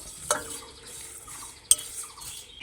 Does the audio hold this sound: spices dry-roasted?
yes